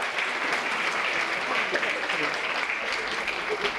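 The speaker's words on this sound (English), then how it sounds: "give the detective another round of applause" A conference audience applauds, a dense, even wash of clapping that holds steady and close for the whole few seconds with no voices over it.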